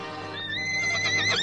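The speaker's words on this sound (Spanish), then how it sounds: "Tome ese caballo, don Nacho." A horse neighs close by in a Spanish-language El Zorro adventure scene, a loud rising whinny that wavers and climbs toward the end over a steady low background.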